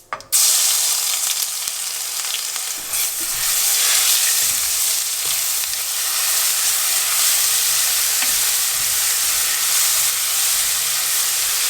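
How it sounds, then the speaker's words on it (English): Spices and asafoetida fry in hot oil with a loud, steady crackling sizzle, close and continuous, with a sharp burst at the start when they hit the pan and faint stirring underneath. "go ahead and put in your hing or asafoetida, and then we're going to quickly fry up the spices."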